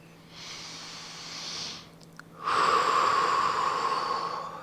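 Deep breathing during a home full-body workout: one long airy inhale, a short pause, then a stronger, harsher exhale, close to the microphone and with no speech.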